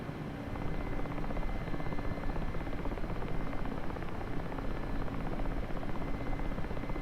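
Steady loud thrum of a video game helicopter rotor, a continuous chopping drone that holds evenly throughout with no voices.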